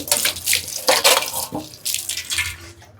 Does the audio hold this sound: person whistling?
no